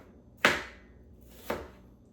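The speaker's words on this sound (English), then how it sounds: "So cut them in half from head to tail, and then you're just gonna do some nice thin slices" Two crisp knife slices through onions on a cutting board, the blade cutting thin slices for a sausage roll and onion gravy dish, with a sharp onset at each cut and a gap of about a second between them.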